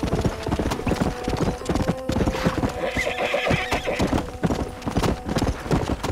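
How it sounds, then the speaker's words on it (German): A horse in the video game Red Dead Redemption trots with rapid, steady clip-clopping hooves and gives a whinny, loud and close, with game sounds around it. "Das Pferd will nicht runter, ich muss Serpentin reiten"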